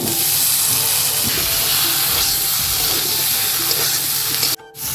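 Chickpeas and potatoes fry in a pan with a loud, steady sizzle and hiss that fills the scene, then cut off abruptly near the end.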